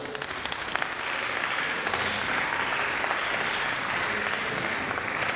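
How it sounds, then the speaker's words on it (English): A lecture audience claps steadily for several seconds, a dense, even wash of applause without voices. "A round of applause for our first speaker, Mr. O.A. Ashimura."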